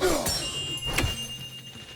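A chime is struck in God of War Ragnarok, giving a single bright metallic ring with a long, steady sustain that fades slowly under game audio.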